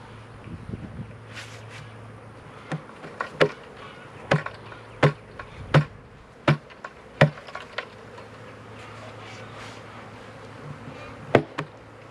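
A honey bee swarm of roughly 1,000 to 2,000 bees hums inside a swarm trap, a low steady buzz broken by a string of sharp, close knocks and taps at irregular intervals.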